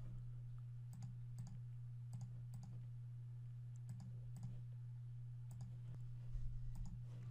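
Computer mouse clicks selecting faces on a 3D model in CAM software, a series of sharp, quiet clicks in small clusters over a steady low electrical hum, with no talking.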